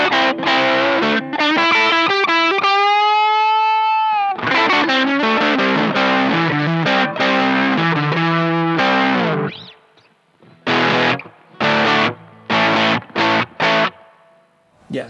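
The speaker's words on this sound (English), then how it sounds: "Yeah, so it's a nice rock and roll hard distortion tone." Electric guitar played through a rare Japanese Guyatone PS-001 distortion pedal set to a hard rock-and-roll tone: loud, saturated chords and riffs, a held bend, then sharp stabbed chords separated by short silences.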